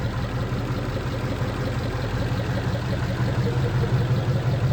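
A 1940 Mercury engine idles with a low, even rumble and faint rhythmic chugging, with its fuel pump diaphragm spraying fuel over the engine; continuous throughout with no voices.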